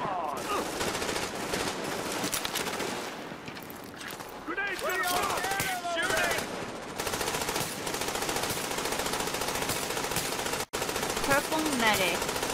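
Sustained automatic gunfire in The Division at Grand Central Station, rapid bursts and overlapping shots running nearly throughout at steady high loudness, with game effects mixed in and a player's voice talking over parts of it.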